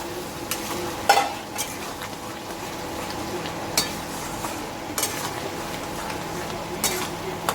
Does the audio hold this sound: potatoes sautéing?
yes